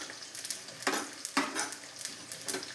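Onions sauté gently in a pan over a low flame. A soft, quiet sizzle runs underneath occasional scraping stirs of a spoon against the pan.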